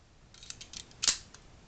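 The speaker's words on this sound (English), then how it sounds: "Since I'm handling the gun, I'll go ahead and go through the motions making sure it's safe." A stainless Beretta Tomcat INOX 3032 .32 caliber pistol gives a handful of quiet, crisp metallic clicks as it is handled and checked, the loudest snap near the end.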